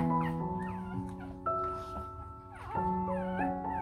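Day-old newborn puppies, just born to their mother, whimper and yip in a steady stream of thin, high, wavering cries, several overlapping voices close by with no talk.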